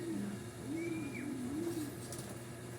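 Racing pigeons circling home during a pigeon race, with soft repeated cooing calls close by over a steady outdoor hum, fairly faint, no voices.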